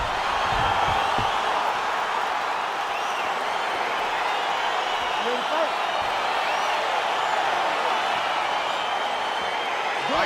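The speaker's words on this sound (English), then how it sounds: "crowd getting excited as this fight gets underway" Steady, broad roar of an arena crowd in the EA Sports UFC 4 game as a fight between Israel Adesanya and Jan Blachowicz begins, a constant wash of cheering beneath a commentator's voice.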